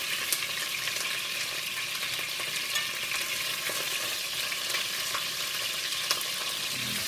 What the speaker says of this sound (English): It don't take long to sear it off, because my pot was already hot and ready to go there